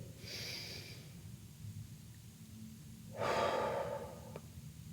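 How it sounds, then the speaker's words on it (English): A person takes slow, deep breaths up close: a soft airy inhale early on, a quiet pause, then a fuller, louder breath with a rough, snorting texture. "Breathe."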